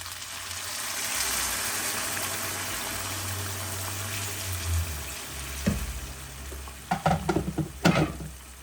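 A steady sizzling hiss from a hot pan of lamb shank in soy sauce, shifting as about two cups of water are poured in, followed by a few clanks and stirring sounds near the end.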